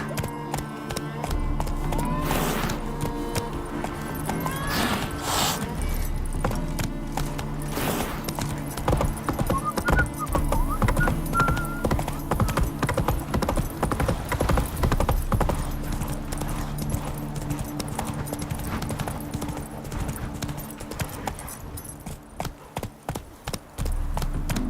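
Horse hooves gallop in steady clip-clop rhythm as Roach runs in The Witcher 3, with game music and effects layered throughout and a loud, continuous mix.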